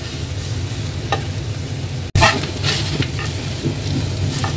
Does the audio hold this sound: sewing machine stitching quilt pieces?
no